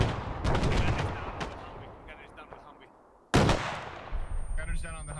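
In a military video game, grenade machine gun fire lands in heavy bursts of booming explosions and rattling gunfire, loud and close. A sudden second blast hits partway through, and voices talk over the combat.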